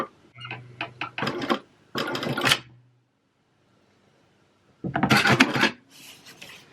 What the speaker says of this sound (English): I think I need to turn off my automatic back stitch.